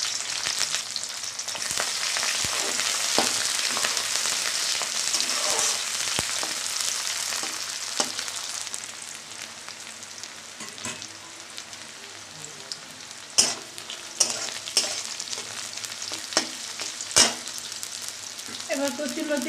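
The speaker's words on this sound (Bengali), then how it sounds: "এবার কড়াতে তেল দিয়ে দিলাম, পেঁয়াজ দিয়ে দিলাম" Onion and garlic cloves frying in oil in a kadai, a steady loud sizzle with scattered stirring clicks and scrapes that grow sharper in the second half.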